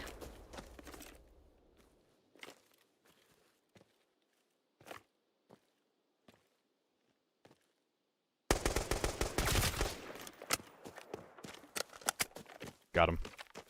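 Bursts of automatic gunfire in a shooter video game, sporadic faint shots and footsteps at first, then a sustained loud stretch of rapid firing and impacts.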